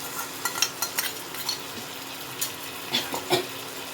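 Lentils for egg tarka are tipped into cooked-down masala and stirred, giving a soft sizzle under a scatter of faint spoon scrapes and light clinks, close and not loud.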